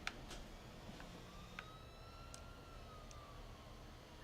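An ambulance siren sounds in the video game GTA4, a faint, slowly gliding wail far in the mix, with scattered sharp clicks and a low rumbling engine bed.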